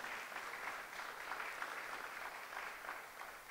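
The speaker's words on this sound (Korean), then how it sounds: "뜨거운 박수로 우리 한번 환영하도록 합니다." A church congregation applauds to welcome a visiting guest, a steady, even wash of clapping from many hands that fills the room throughout without any talk.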